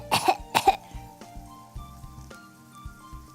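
Two sharp, close coughs in quick succession, followed by quieter throat sounds and faint background noise.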